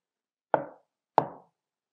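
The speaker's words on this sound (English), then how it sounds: "they heard two consecutive knocks on the door" Two sharp knocks on a door, a story sound effect, land about two-thirds of a second apart, each a clear wooden rap with a short decay and silence around them.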